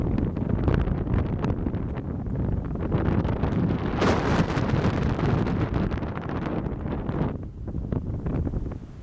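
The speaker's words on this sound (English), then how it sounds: "it's very windy." Strong wind roars steadily and loudly with no voices, swelling in gusts before easing slightly near the end.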